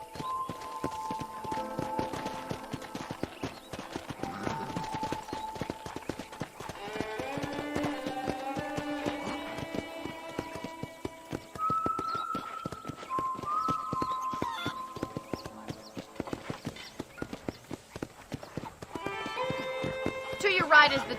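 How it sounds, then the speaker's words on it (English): Horse hooves clip-clop in a steady rhythm while riding in the Red Dead Redemption video game, with occasional whinnies and a voice talking over the hoofbeats throughout. "let's see if you can still ride a horse."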